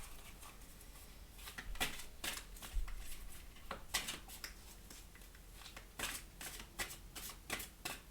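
Oracle cards from the Journey of Love deck being shuffled by hand, a run of crisp riffling bursts and soft slides repeating irregularly at close range with no voices.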